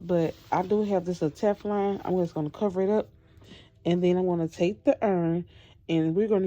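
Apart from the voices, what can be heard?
No everyday noise stands out behind the speech.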